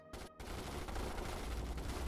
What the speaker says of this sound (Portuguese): Ah, minhas metralhadoras vão ter que segurar lá